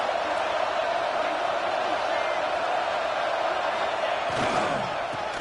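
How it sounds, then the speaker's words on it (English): A football stadium crowd roars steadily during a red zone defensive stand, a dense, continuous wall of noise with a sportscaster talking over it. "And here comes the noise. This crowd is trying to inspire this defense to make a big red zone stop."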